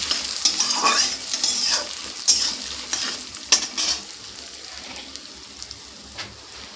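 Mung dal dry-frying in a pan as a spatula stirs it: close, irregular scraping strokes over a soft, steady sizzle, with no voices.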